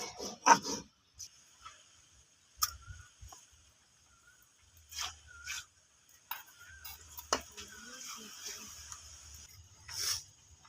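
Ginger is ground into paste on a grinding stone in a home kitchen, making faint, intermittent scraping and rubbing strokes with short pauses and occasional light knocks, close by and quiet.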